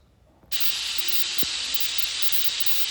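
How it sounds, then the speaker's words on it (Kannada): A pressure cooker lets out a sudden, loud, sustained whistle that starts abruptly and holds steady after a quiet moment, with a faint clink in the background. "ಇವಾಗ 6 ವಿಸಿಲ್ಸ್ ಡನ್ ಆಯಿತು."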